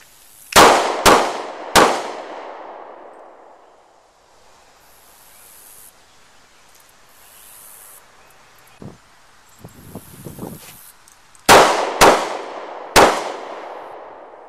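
Pistol shots ring out during a failure drill on steel targets, three sharp cracks, a pause with faint rustling and clicks, then three more shots, loud and close with ringing decay.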